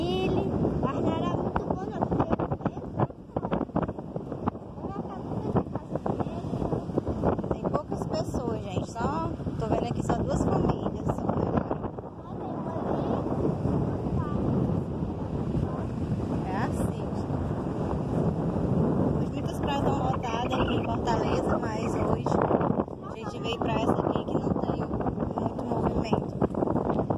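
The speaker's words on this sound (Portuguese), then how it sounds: "O vento é muito forte." Strong gusting wind buffets the microphone on a deserted beach, a loud, rough roar that rises and falls throughout while people talk over it.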